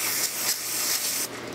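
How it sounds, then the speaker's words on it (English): Short bursts of brake cleaner aerosol spray hiss up close onto a Ford F-150 flywheel, pulsing a few times before a final steady spray. "Good spray of brake clean."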